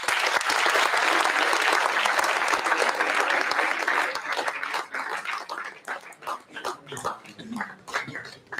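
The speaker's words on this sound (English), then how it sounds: "please give a huge round of applause." Loud audience applause fills a hall at a formal event, dense and sustained for about four seconds before thinning into scattered claps as it fades.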